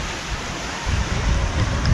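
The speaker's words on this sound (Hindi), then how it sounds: "कल से ज़्यादा लहरें हैं, टाइड्स ज़्यादा है कल से यहाँ पे" Sea waves surge strongly onto the shore at Beyt Dwarka in Gujarat during a high tide, making a loud, steady rushing wash that swells toward the end, with wind buffeting the microphone.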